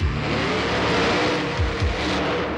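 A monster truck engine roars and revs loudly under the Hoosier Dome during an indoor monster truck and tractor pulling show, a dense continuous din with low rising sweeps.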